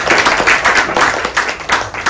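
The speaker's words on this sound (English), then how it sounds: "A round of applause, please." An audience at a public talk about Fort Defiance Park, open space and climate resilience gives a round of applause. Close, loud claps come in uneven bursts with individual hands distinguishable, suggesting a modest-sized crowd.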